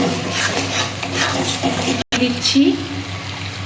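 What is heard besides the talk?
pouring water into a pan of frying spices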